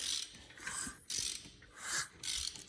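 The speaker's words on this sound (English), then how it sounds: "Got a little short ratchet there" A short ratchet clicks in several quick bursts as it turns over a Duramax LML diesel engine in a shop, close and clear with no talking.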